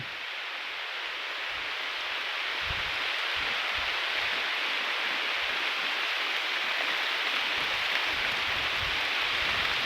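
Steady, dense heavy rain on a farm during a storm hisses continuously, with low rumbling thuds now and then, no voices.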